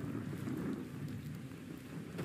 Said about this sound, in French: Ok, donc là il pleut.